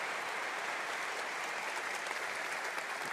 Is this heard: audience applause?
yes